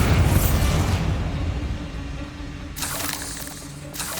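Bombarda spell explosion in the video game Hogwarts Legacy, a loud booming blast that decays into a rumbling tail, followed by a second burst and spraying debris.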